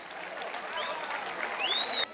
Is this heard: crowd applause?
yes